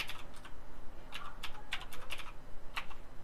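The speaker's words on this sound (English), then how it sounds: "Just type in Nerdwriter Nathan. Oh my god, I'm not used to the keyboard placement" Fingers tap a computer keyboard in short, uneven bursts of sharp clicks, close and clear over a faint background hum, with no talking.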